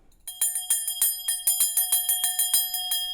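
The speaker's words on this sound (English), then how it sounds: "And this is the bell." A bronze sculpture bell whose handle is a diver figure rings in a quick, even series of about a dozen bright metallic strikes, each leaving a shimmering ring, close and clear with no talk.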